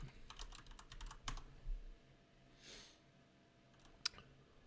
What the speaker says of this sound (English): we're just going to go ahead and type in a vehicle registration here